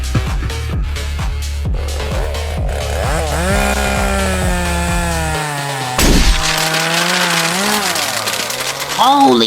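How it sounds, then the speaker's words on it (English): A chainsaw engine runs loud and close, its motor revving and whining with steady pulsing power, while excited voices shout over it in a comic scene. "He picked up his chainsaw!"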